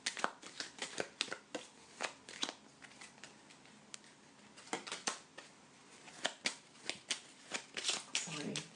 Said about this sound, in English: I'm just shuffling the cards closer to me.